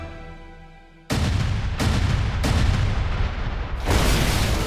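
Heavy gunfire in a dramatized battle of Shumshu Island breaks out suddenly after a quiet moment, then roars on as loud, continuous overlapping bursts with no talking.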